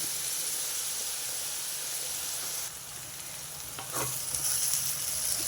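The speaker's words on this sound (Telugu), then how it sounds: "కొంచెం కరివేపాకు వేసానండి ఇదంతా ఒకసారి కలుపుకోవాలి ఉల్లిపాయలు ఇంకొంచెం మగ్గాలి" Sliced onions and curry leaves fry in oil in a pan, a continuous close sizzle and hiss with a stirring clatter toward the end and no voices.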